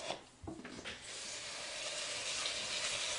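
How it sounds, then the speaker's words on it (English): Water pours steadily into a cooking pot over washed lentils, a rushing, sink-like stream that starts after a few brief knocks and then holds a continuous, fairly loud hiss. "cover them with water"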